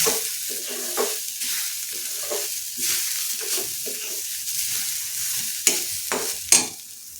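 A veg cutlet made without potato cooks in a non-stick pan with no oil, giving a soft steady sizzle broken by repeated scraping stirs and two sharper clicks of a utensil near the end, with no voices.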